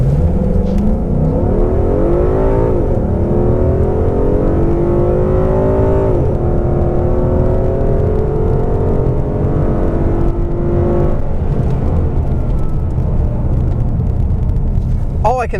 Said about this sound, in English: we've got her in sport mode, and I figured that we at least need to do one full pull in this and just see what she kind of will do